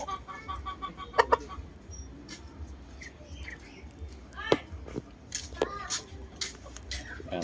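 Gamefowl chickens and young stags in a backyard, with repeated clucks and short crowing-like calls near and far, some overlapping, above a steady low background and some faint voices.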